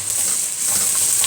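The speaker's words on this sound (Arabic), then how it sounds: "البصله بتاعتي شوحتها اهي" Onions sautéing in a pan for a beef and black-eyed pea stew give a steady, loud sizzle with soft stirring scrapes throughout, no voices.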